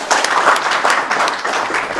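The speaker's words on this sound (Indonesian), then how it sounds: "Boleh tepuk tangan?" Audience applause in a TV studio at the close of an Indonesian talk show interview, a loud, dense burst of clapping that fills the whole moment with no talk over it.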